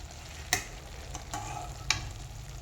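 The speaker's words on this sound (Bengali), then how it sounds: "এটা এখন রান্না হচ্ছে গলা, মেটে আর স্টমাক।" Chicken neck, liver and stomach fry in a pan, a soft continuous sizzle broken by a few sharp stirring scrapes of a utensil, heard close and fairly quiet with no talking.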